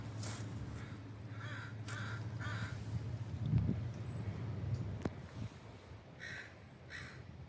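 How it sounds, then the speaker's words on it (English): Several crows caw in short bursts, a few calls fairly near and others farther off, over steady low wind and outdoor background rumble. "There's a murder of crows."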